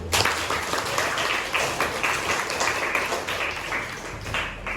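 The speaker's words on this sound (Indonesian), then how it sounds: "Kita beri tepuk tangan." Steady applause from a classroom of students, many hands clapping continuously throughout, fairly close and even in loudness.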